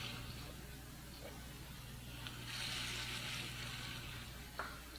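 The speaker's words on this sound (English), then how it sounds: "We're just going to put a little sear on all these meatballs." Meatballs sear in a hot pan, giving a steady, faint sizzle close by with occasional soft stirring and a low background hum.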